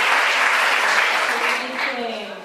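Strong applause from a congregation at an international miracle crusade church service, a dense wash of clapping that tapers off toward the end while a voice begins to sound faintly over it.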